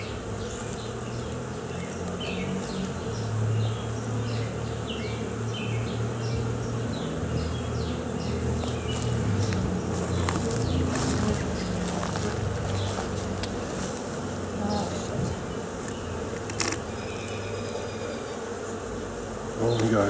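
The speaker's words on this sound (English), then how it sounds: "Oh my god, look at all those bees." Swarm of honeybees humming densely around a beehive outdoors, a steady close buzz that fills the whole stretch with individual bees droning past, no talking.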